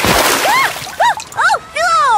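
Water splashing at a water park in a short burst at the start, followed by high, sing-song voices talking.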